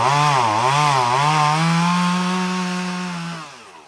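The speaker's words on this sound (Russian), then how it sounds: "Валовый переулок в Уссурийске оглашен рокотом бензопил." Chainsaws pruning tree branches along a lane in Ussuriysk in winter: a loud, steady two-stroke engine drone that rises and dips with revving, heard alone and easing off toward the end.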